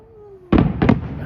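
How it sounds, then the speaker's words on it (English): Town fireworks go off outdoors at night as two sharp, loud booming bursts in quick succession, following a faint steady hum. "Can you believe our town's setting off fireworks with how much money we made on Spark today?"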